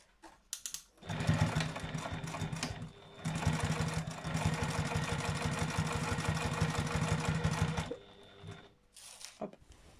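A sewing machine stitches a chair cover at a steady, even rapid pace for several seconds, loud and close, with brief handling noises before and after.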